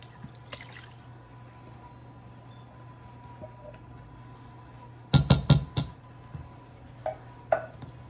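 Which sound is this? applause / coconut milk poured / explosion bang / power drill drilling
coconut milk poured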